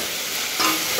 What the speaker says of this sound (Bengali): চিকেনটা কষানো হচ্ছে, প্রায় হয়েই গেছে